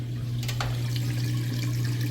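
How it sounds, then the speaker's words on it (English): A Maytag Bravos top-load washing machine drains its water, a steady close rushing and gurgling flow over a low motor hum, with no voices. "Nice and fast, you can hear the drain running."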